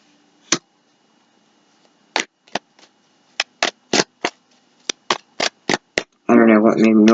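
Tarot cards being shuffled in a series of sharp, quick riffling bursts with short pauses, ending in a longer, denser flurry.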